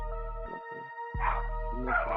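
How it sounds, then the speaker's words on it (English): Dogs barking and yipping during a dog fight, with a few sharp, loud, close barks in quick bursts, a brief pause, then more rough overlapping barks. "oh, you got a dog fight going on."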